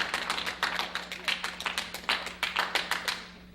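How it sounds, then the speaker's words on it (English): A small audience at a live improv game show claps for a few seconds, a loose, sparse patter of individual hand claps with irregular spacing, fairly close and moderately loud. "You can clap for the driver."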